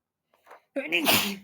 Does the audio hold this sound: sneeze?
yes